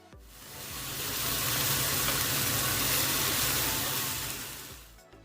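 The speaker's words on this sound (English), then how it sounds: "Now add those cut mushrooms in and start sauteing with 1/3 of the sauce until they're cooked down and look golden and delicious." Oyster mushrooms sauteing in a pan with sauce give a loud, steady broadband sizzle that swells in and holds for several seconds before cutting off, with no talking.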